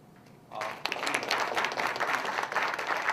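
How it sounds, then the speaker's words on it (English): An audience at a business plan competition breaks into applause for the judges, a dense burst of many hands clapping that starts abruptly and holds steady and loud at close range. "please join me in applauding their contribution to the College of Business"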